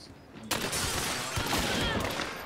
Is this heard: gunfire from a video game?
yes